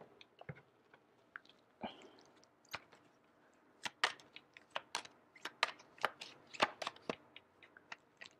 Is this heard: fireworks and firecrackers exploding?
no